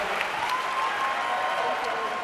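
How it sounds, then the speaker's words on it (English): Audience applauding panelists at a discussion event with President Obama and Mark Zuckerberg, a steady dense patter of clapping filling the whole stretch at moderate level. "Give our panelists a big round of applause."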